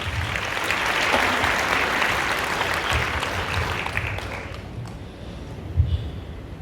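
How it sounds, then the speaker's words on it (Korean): An audience at a Christian leaders' forum breaks into dense, sustained applause to welcome a pastor to the stage. The applause is loud and continuous, then thins out toward the end with a few scattered claps. "박수로 모시겠습니다."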